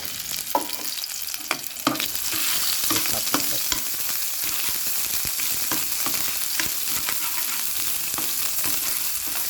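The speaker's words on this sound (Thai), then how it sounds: "ผัดก่อนนะฮะเพื่อความหอม" Loud, continuous sizzling as curry paste is stir-fried in hot oil in a pan, with scraping stirs and a few sharp clanks, close up and with no talking.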